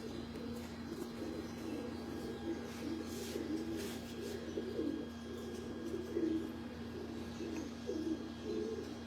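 Pigeons coo in a breeder's loft, a steady low murmur of overlapping calls that runs throughout, with a faint steady hum underneath and no talking.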